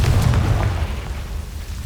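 A Confringo spell in Hogwarts Legacy goes off as a deep, muffled booming explosion that hits hard at the start and then rumbles away over the next second and a half.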